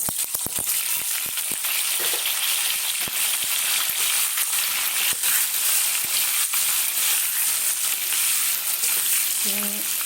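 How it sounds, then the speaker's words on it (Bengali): Potatoes frying with asafoetida in a pan give a loud, continuous close sizzle, with scattered clicks and scrapes of stirring early on. "হিঙের সঙ্গে আলুটাকে সুন্দর করে আগে একটু নাড়িয়ে নেব"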